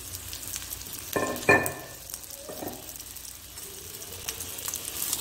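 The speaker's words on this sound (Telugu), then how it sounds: "అవి వీటిలో వేసి కొంచెం లైట్ గా దోరగా వేయించుకోవాలి" Chopped onions sizzle quietly in hot oil in a pan for a Telangana fish curry, a soft steady frying hiss with a couple of brief sharper crackles near the start.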